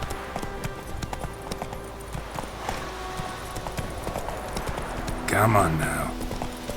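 Clip-clop of hooves from Roach, the horse in the video game The Witcher 3: Wild Hunt, a steady trot that keeps going under a voice and game dialogue and rises into a louder flurry near the end.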